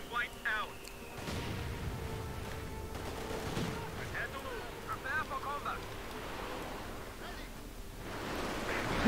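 Panzerwerfer rocket artillery fires in the Company of Heroes 2 strategy game, a dense roar of launches and rumbling explosions with battle noise throughout, while a commentator talks over it.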